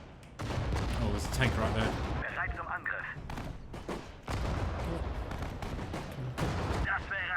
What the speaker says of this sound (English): Both arty guns are taking out that machine gun bunker.